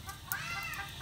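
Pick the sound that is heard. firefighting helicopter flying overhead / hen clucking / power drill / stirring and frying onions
hen clucking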